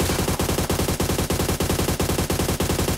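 Rapid automatic gunfire in the mobile battle royale PUBG Mobile on the desert map, a loud, close, steady stream of shots in evenly spaced bursts with no pauses, filling the whole stretch.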